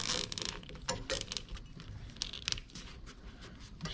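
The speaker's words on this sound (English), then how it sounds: "we'll zip tie the bulb in place. Gonna just put it right here. Gonna cinch it down." A zip tie ratchets tight around a bulb packed in insulation during a Honda CRX air-conditioning install, giving a few quick, close, clicking zips in short bursts with pauses between.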